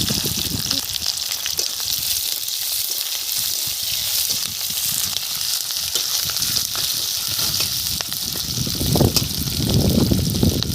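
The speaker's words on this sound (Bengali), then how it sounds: "তেল গরম হয়ে গেছে, 3টে শুকনো লঙ্কা এইভাবে ছিঁড়ে দিয়ে দিলাম সাদা জিরে, দিয়ে দিলাম পেঁয়াজ কুচি, দিয়ে দিলাম অল্প করে রসুন ছেঁটা" Dried red chillies, cumin seeds, chopped onion and garlic frying in hot oil give a loud, steady sizzle that runs unbroken, swelling slightly toward the end, with no voices.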